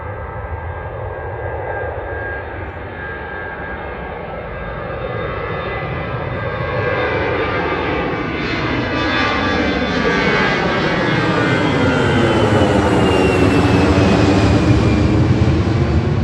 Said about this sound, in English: Airbus 320.